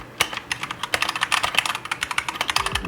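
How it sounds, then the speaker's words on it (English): Rapid clicky keystrokes on a Keychron K2 mechanical keyboard, close and crisp, in an uneven typing rhythm with many sharp clacks across a few seconds, no voices. "The Keychron is an awesome keyboard. It's super clicky and satisfying to type on."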